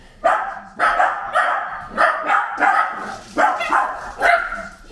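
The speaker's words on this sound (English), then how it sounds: "The attack dogs are out." Dogs bark at a house's front door, about eight sharp, loud, close barks in an uneven rhythm with brief gaps between them, and no talking.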